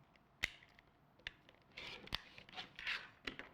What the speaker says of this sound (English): We're going to trim that seam allowance using our add a quarter ruler.